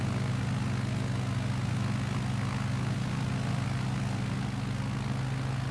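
A propeller airplane drones past in Microsoft Flight Simulator 2020 on a scenic flight from Palomino to Herlong, a steady low engine hum holding evenly throughout with no talk.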